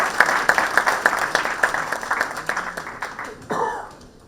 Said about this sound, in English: Please, a huge round of applause for ma'am.